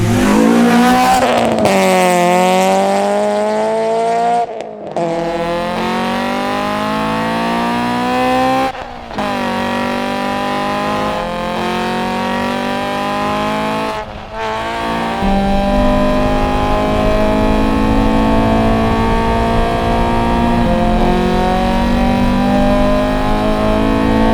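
A Honda CRX with a 180-horsepower VTEC engine revs hard and pulls through rising gears, its engine note climbing in repeated sweeps broken by brief shift gaps, loud and close, with a rougher steady drone toward the end.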